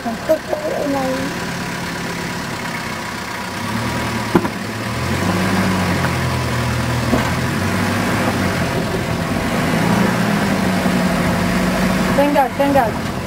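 Vehicle engine revving as it is given gas while climbing a high step on an off-road trail, a steady mid-pitched drone rising and falling, with people talking over it.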